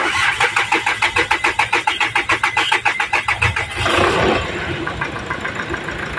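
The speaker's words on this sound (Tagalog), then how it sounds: "unang andar ay wala namang palyado" A diesel Hyundai Grand Starex van engine cranks with a rapid rhythmic chugging of the starter, then catches and settles into a rough, steady idle.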